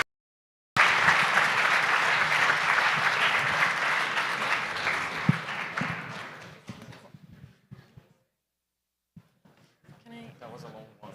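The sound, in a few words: applause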